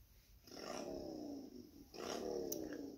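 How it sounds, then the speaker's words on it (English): A motorcycle ringtone: an engine revs up twice in a row, each roar rising in pitch before dropping off. "Motorcycle."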